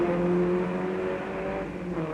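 Saab and Mercedes rally cars from 1962 race through a hairpin, a steady loud engine drone with a tonal whine that holds then eases slightly as they move away.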